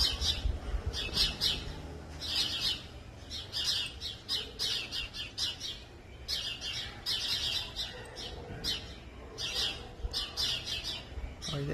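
A sparrow chick calling out as a white ani seizes it, with repeated sharp chirps and squawks in bursts throughout, fairly close over a steady background.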